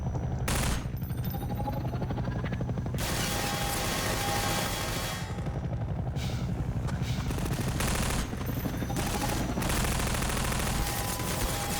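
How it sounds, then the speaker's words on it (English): Sustained enemy gunfire in Half-Life 2, loud continuous automatic bursts with brief gaps, filling the whole stretch close and harsh. "he's shooting me while I'm trying to recharge"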